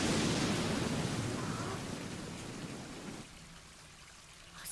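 Water pouring in an anime scene, a steady broadband rush that is loud at first, then thins and quiets before swelling again at the end.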